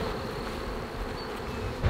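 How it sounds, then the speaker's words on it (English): A large swarm of bees drones steadily and densely close by, a continuous buzzing hum with no talking. "I have never been around this many bees in my life."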